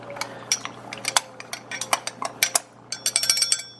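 A butter knife taps and clinks against cookware, making a quick, irregular run of bright metallic chinks. The sound is close and clear in a quiet kitchen during seafood boil preparation.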